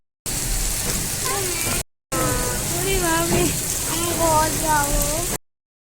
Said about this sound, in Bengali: বৃষ্টি নামলো কি জোরে।